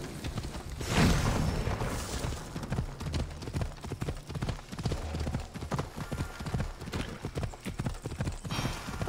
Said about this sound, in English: There's also a horse here.